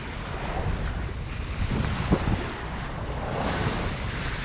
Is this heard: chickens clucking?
no